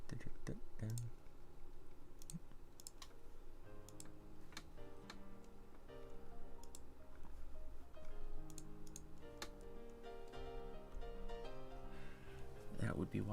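Typing on a small mini laptop keyboard, quick irregular plastic key clicks in short bursts spread across the stretch, close and fairly quiet, with someone talking intermittently over the tapping.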